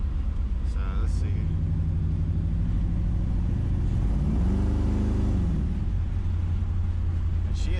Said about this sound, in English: I hope the sound of the engine's coming through as well.